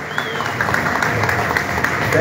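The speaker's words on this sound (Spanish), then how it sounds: "Voy a pedir por favor los aplausos para él." Audience applause at a motocross press conference, a steady wash of clapping and crowd noise throughout, fairly loud, with a voice briefly over it.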